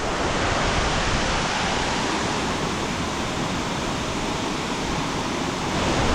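Nelson Falls in Tasmania, Australia, roars in a loud, dense, unbroken wash of falling water that holds steady from start to finish.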